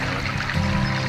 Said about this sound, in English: We just loved the clean flowing creeks.